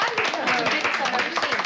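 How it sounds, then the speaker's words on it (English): A small group of people clapping indoors at a family Thanksgiving gathering, brief scattered claps mixed with overlapping voices. "A little applause, please."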